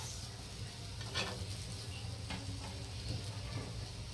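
Garlic sizzles in a pan with onions and dried coconut for a Marathi surmai fish curry, a steady frying hiss with a few scraping stirs, close and continuous with no talk.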